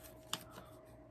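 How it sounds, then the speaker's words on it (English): Scissors cut through thick cardboard with one crisp, close snip, followed by a fainter second cut in an otherwise quiet room. "it's easy to trim with scissors."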